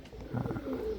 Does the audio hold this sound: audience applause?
no